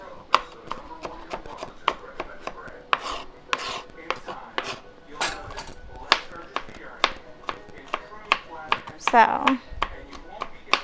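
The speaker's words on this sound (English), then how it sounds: "And then we're just going to rough chop it." A knife rough-chops marinated shawarma meat on a board, giving a steady run of close, crisp thuds with small pauses, and a brief voice near the start.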